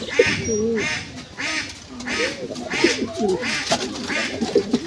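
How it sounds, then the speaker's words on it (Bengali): Repeated soft, throaty coos of a King pigeon in a rolling rhythm, close by, with faint background chatter of other birds. "এখানে দেখেন আমাদের কিং কবুতরটা ডাকছে"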